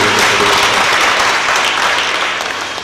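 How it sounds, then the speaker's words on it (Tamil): A church congregation applauds the choir during a Christmas Mass at St. Ignatius shrine in Karungulam, the clapping loud, dense and sustained before tapering slightly at the end. "எல்லோரும் சேர்ந்து கரவொலி எழுப்பி நம்முடைய வாழ்த்துக்களை பாராட்டுகளை"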